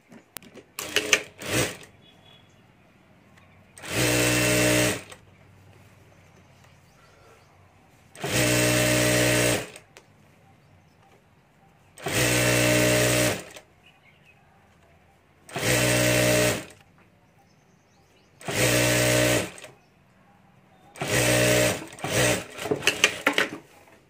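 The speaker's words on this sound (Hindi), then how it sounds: "यहाँ हमें सिलाई करके बॉर्डर लगा देनी है यहाँ" A sewing machine stitches a border onto a small deity dress for Parvati Mata, running in about six loud, even bursts separated by quiet pauses.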